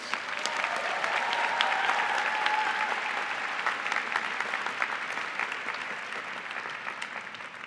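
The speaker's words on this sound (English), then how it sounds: "Please join me in a round of applause for all of our PhD graduates." A ceremony crowd applauds PhD graduates at the 2018 Heinz College diploma ceremony, a sustained, even roar of clapping from a large audience that slowly softens over several seconds.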